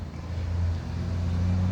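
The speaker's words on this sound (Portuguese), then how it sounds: "mas passa carros, passa motos." Steady road traffic on a noisy early-morning street, with a continuous low engine rumble from cars and motorcycles passing nearby, holding fairly constant and swelling slightly toward the end with no voices.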